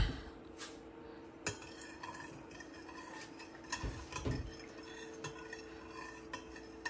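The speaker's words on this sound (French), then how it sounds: "maintenant tu peux utiliser une cuillère pour faire fondre le sel, pour dissoudre le sel dans l'eau" A spoon stirs salt into water in a bowl, giving quiet repeated clinks and taps against the sides with a few louder knocks, close and alone.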